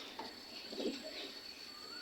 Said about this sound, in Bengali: এখানে আমার এক জোড়া রেচা কবুতর আছে